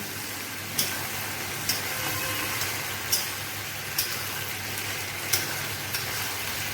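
Fried chicken pieces for chicken manchurian being stirred in a pan, a steady low sizzle broken by regular spoon scrapes about once a second, close and fairly quiet, no talking.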